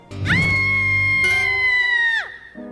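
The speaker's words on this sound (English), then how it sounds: "Velma's voice actress once again is unable to sell a scream convincingly" A woman's scream from the animated series Velma: one loud, high-pitched cry held steadily for about two seconds, then dropping away sharply.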